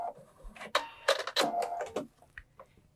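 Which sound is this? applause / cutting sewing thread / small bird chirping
cutting sewing thread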